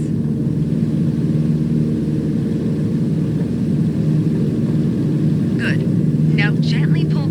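A steady, loud airplane engine drones at take-off power in Microsoft Flight Simulator, holding a constant hum throughout with a few faint squeaks near the end.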